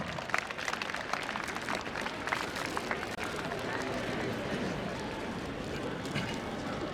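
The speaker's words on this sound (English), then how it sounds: "Please give them a huge round of applause." Sustained audience applause fills a school annual function hall, dense and steady throughout, with crowd noise and some voices mixed in.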